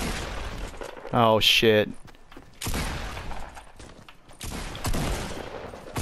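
Gunfire in the Fortnite battle royale video game: several loud, sharp bursts of shots crackle in quick clusters, mixed with game noise, while a player swears and talks over them.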